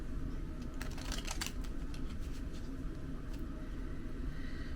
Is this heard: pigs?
no